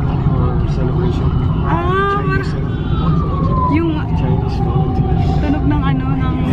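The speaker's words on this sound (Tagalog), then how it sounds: "Tunog ng ano, ng fire truck" A fire truck siren wails through busy outdoor traffic noise, its rising and falling tone fairly clear but mixed into a loud, constant background rumble.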